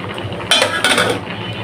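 A metal lid clatters onto a cooking pot of rice, lentils and vegetables, two quick close clanks with a brief rattle, over a steady low kitchen background.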